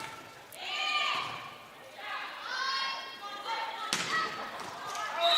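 Sharp hits and thuds from a college volleyball match in a gym, muffled and echoing under a steady crowd murmur and voices, with a louder slam near the end.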